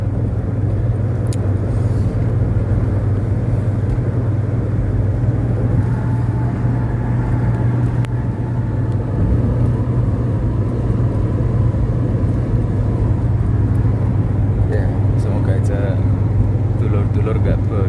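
Continuous loud tyre roar of a car driving on a concrete toll road, a steady droning rumble from inside the cabin with air conditioning on, unbroken throughout, with someone talking over it.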